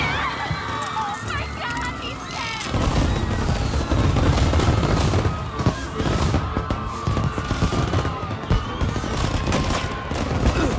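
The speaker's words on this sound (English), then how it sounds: "And now for the fireworks" Fireworks pop and crackle in a rapid, dense barrage within the video game Mafia: Definitive Edition, sustained and moderately loud, with voices talking over them.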